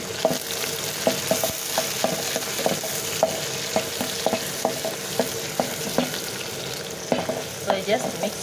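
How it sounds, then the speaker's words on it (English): Green pepper and onion frying in a pot while being stirred, a steady close sizzle broken by regular scraping knocks of the spoon against the pot every half second or so, no talking. "So I just mix green pepper with the onion."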